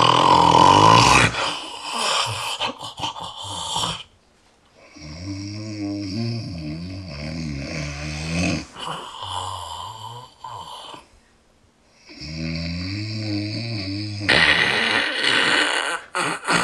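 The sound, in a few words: person snoring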